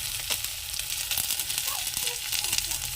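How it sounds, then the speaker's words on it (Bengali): Onions fry lightly in oil in a pan while a cauliflower paratha is being made, giving a steady, close, broadband sizzle with small crackles that holds for the whole stretch without a break. "নর্মাল আমরা যেমন পেঁয়াজ ভাজি যে কোনো জিনিসের ক্ষেত্রে"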